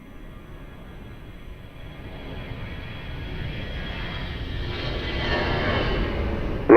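Airliner at Lisbon Airport, a steady jet engine roar that slowly builds in loudness over several seconds, heard from a distance with no talk over it.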